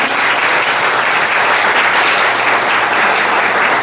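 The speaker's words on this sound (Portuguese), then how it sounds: "uma salva de palmas para os palestrantes agora" At an environmental waste management conference, the audience gives the speakers a round of applause: loud, dense, sustained clapping that stays level throughout with no voices over it.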